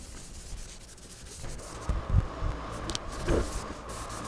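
A small polishing wheel bought from an auto-parts store works machined metal to remove toolmarks. It gives a close, gritty rubbing hiss with a few louder scuffing bursts near the end.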